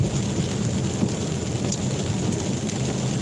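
Heavy rain heard from inside a car while driving, a dense, steady wash of drumming and hiss that fills the clip evenly and loudly, with no voices.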